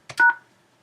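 Two quick DTMF keypad tones on a 3CX office phone system, dialing a star code, heard clearly and alone with a short fading tail of quiet afterward.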